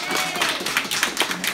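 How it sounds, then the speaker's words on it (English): A short, scattered burst of clapping from the crowd at a chili cook-off awards presentation, with talking mixed in. "let's everybody give a round of applause."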